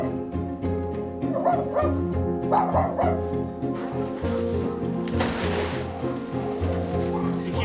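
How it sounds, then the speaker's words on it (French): Dogs from a hoarding case, kept among excrement, with a newly found litter of four puppies, give repeated yips, barks and thin whimpering cries, close and overlapping in a busy, echoing space. "on vient de retrouver une petite portée de 4 chiots"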